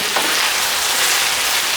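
Loud, steady sizzling of chicken pan frying in hot oil, close up and continuous with no talking.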